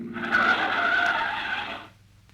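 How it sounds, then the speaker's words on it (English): A car skids to a stop on a dusty road, a loud squealing scrape of tires that holds for over a second and then fades quickly into quiet. "Hey, Bubbles, look out. Here comes a car."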